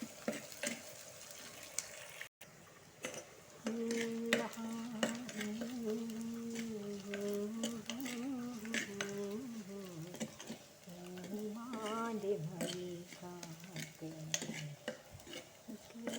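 Shallots and onions frying in a pan for a jackfruit curry, a steady sizzle with occasional stirring scrapes, while someone speaks over it and a song plays faintly behind.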